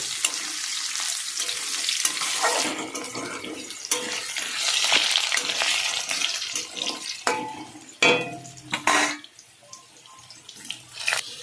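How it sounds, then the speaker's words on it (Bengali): Potatoes fry with cumin in hot mustard oil, a steady loud sizzle with stirring scrapes, then quieter clinks and bumps from the pan toward the end. "জিরেগুলো সোমবাড়া দিয়ে আমি আলুগুলো দিয়ে দেবো। আলুগুলো এর সঙ্গে ভেজে নেব।"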